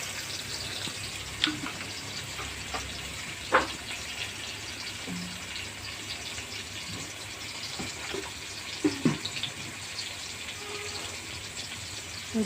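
Water poured into a bowl of seasoned egg mixture for a steamed egg dish, a soft continuous trickle with a few light clinks of utensils, close and fairly quiet.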